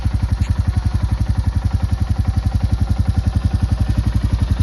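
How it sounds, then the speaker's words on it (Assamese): A new motorcycle engine runs at a steady idle, loud and close, with a fast, even, chugging pulse and light mechanical clatter throughout. "আমাৰ নতুন বাইক"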